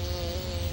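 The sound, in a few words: bee buzzing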